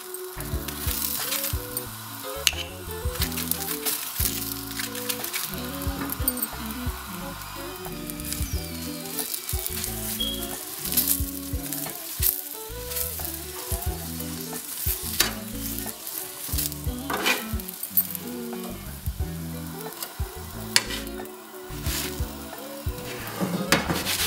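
Aloo paratha cooking in ghee on a pan, an ongoing sizzle under repeated rhythmic scraping and tapping of a spatula, close and fairly loud, with no talking.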